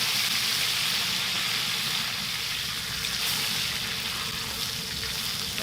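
Ribeye steaks sizzling on a plow disc discada, a dense, steady frying crackle that stays loud and close without letting up.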